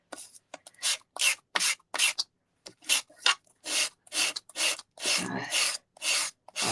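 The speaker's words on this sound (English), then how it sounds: "Now sandpaper is just as good." Sandpaper rubs along the edges of two-tone cardstock in short, brisk, rasping strokes repeated about a dozen times, close and clear with brief gaps between them.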